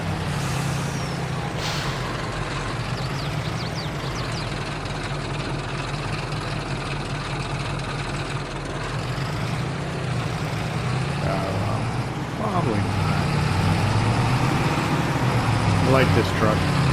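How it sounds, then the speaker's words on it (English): A truck in Farming Simulator 22 on PS5 runs with a steady, droning engine, and a short air brake hiss cuts through partway along. "I like this truck."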